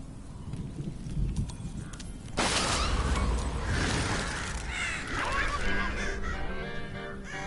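Crows caw in the video game Tearaway Unfolded, a busy, honking flock of calls that bursts in loudly after a quieter stretch and carries on over clattering game sounds.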